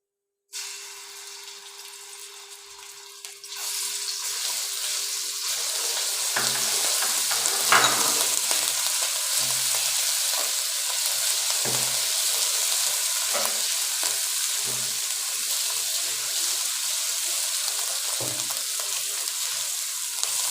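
Ginger garlic paste sizzles and fries in hot oil, a loud continuous crackle with occasional stirring scrapes, close up and without speech.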